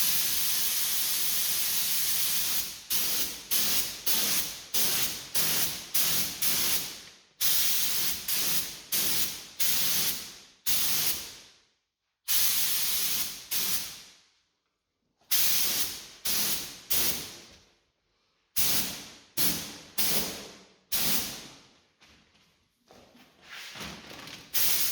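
Clear coat sprayed from a spray gun over a car spot repair, in repeated loud hissing bursts of one to two seconds with short pauses between passes, close and alone with no voices.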